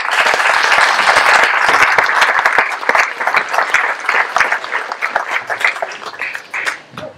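A village audience claps at a New Year's greetings ceremony in Missiriac, starting as a full, dense burst and then thinning into scattered, uneven individual claps that fade toward the end.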